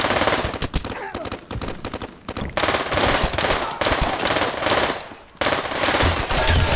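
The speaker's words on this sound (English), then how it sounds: "he's trying to take shots at me" Rapid automatic gunfire bursts dominate a Pavlov VR gun-game match, loud, near and nearly continuous, with short pauses between volleys.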